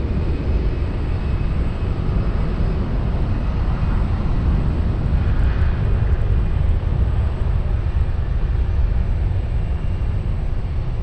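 An airliner takes off from runway 20 at Lisbon Airport, a loud, steady, broad roar of jet engines that holds for about eleven seconds with a faint high whine and no voices.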